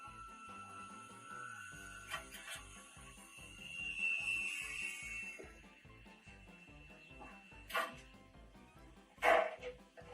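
A dog barks in a few sharp bursts over steady background music, with a little whimpering and yipping mixed in, the loudest barks coming near the end.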